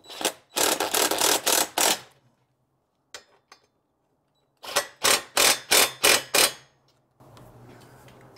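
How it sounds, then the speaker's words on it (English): A ratchet wrench on bolts of an SU rack being fitted to a BMW 1250GS, heard as two close, crisp bursts of rapid clicking strokes separated by quiet, with a few faint taps between. "we're just going to snug them down a little bit."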